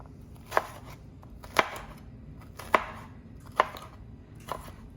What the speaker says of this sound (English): Just gonna give them a rough chop